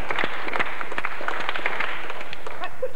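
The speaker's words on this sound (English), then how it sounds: "let's give her a clap" A small audience at a 1985 Manchester double bass course claps for a young double bass student, a brief burst of scattered, fairly close applause.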